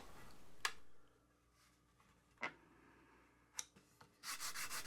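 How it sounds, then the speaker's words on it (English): Sandpaper rubbing the wooden heel of a six-string multi-scale guitar neck, a few short separate scrapes spaced by pauses, then a quicker run of strokes at the end, close and fairly quiet. "sand away the excess wood so that when I bring the neck and the body together, they line up just perfectly"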